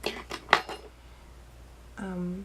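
A metal makeup pan is pried out of an Anastasia contour palette: four quick, sharp clicks close up, then a short pause and a brief hummed voice sound.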